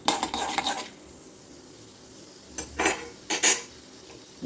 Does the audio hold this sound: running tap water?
no